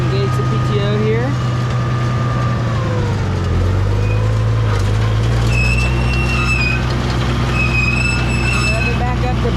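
Tractor engine revving up to power a PTO-driven feed grinder on a farm, a loud steady drone that climbs in pitch partway through and holds high, with a person talking over it.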